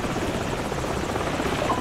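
A helicopter in Call of Duty: Modern Warfare drones steadily with a thumping rotor and engine roar, loud and close, unbroken for the whole stretch with no talking.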